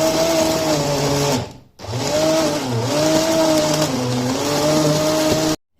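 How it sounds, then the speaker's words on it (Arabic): A hand blender purees food inside a cooking pot with a loud, close motor whine. It cuts out briefly, then restarts, its pitch wavering as it works, before stopping abruptly. "غادي نجيب البغا ميكسور، غادي نطحنها غير في هاد الكوكوط هادي"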